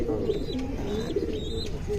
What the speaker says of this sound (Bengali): এই যে একজন সাপচিলা কবুতর বলা যায়, বা খয়রি গলা।